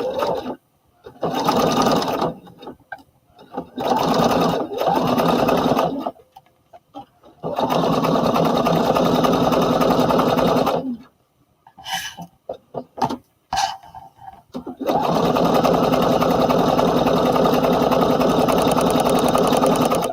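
A sewing machine stitches a crotch seam on a Simplicity S9151 romper in loud, steady runs of motor whir, with the stitching starting and stopping several times between short gaps.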